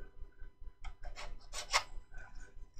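A rasp files a small plastic part of a Nagaoka rolling record cleaner in short bursts of close, scratchy strokes, with a brief pause between strokes.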